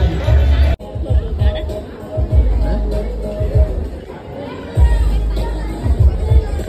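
A dense crowd babbles steadily in a busy seafood restaurant, Nakhwa Hotel near Panvel, with a birthday celebration underway and people waiting; many overlapping voices and clatter sit close and fairly loud throughout.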